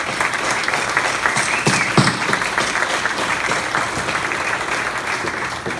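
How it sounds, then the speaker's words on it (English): Sustained applause from a dinner audience at a football Hall of Fame event, a dense steady clatter of many hands that swells briefly midway and carries on throughout without speech. "So again, give applause to Keith."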